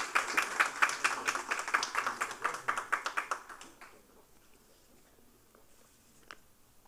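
A burst of applause from a crowd at an awards ceremony, brisk and fairly loud, tapering off after a few seconds into quiet room tone with a stray clap.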